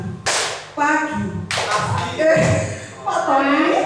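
A classroom clapping game led in Indonesian: bursts of hand claps in counted patterns mixed with a teacher's voice calling out the rhythm, loud and close.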